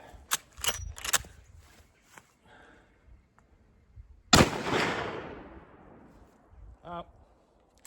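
A single sharp shot from a .44 Magnum lever-action rifle rings out on an outdoor hunting range and is followed by a long rolling echo. A few faint clicks of handling come before it, and a small rattle comes after.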